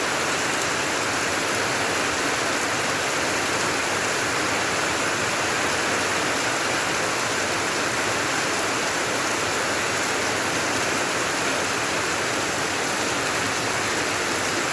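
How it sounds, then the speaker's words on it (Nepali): Heavy rain pouring down steadily, a dense unbroken roar of water hitting surfaces that stays constant and loud throughout. "पुरै हुसलाए जस्तो पानी भइरहेको छ आजको दिन"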